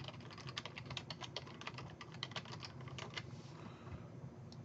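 Rapid, uneven clicking of keys on a computer keyboard as an email address is entered, close and steady for several seconds with no talking.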